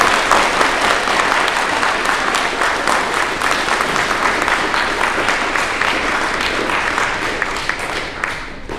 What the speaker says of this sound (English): let's give each other one more big round of applause.